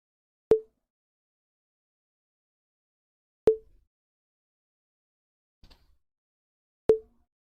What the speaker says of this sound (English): Observe that it indeed sounds like a small bell or a xylophone